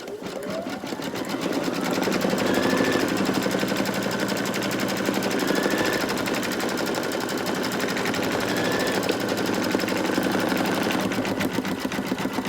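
An embroidery machine stitches a zigzag in a steady, rapid mechanical chatter, loud and close, running continuously throughout with no talk.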